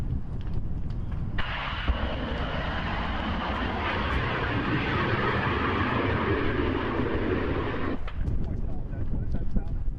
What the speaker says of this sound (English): it's the pressure relief valve on the large propane tanks on the back of the residence, just venting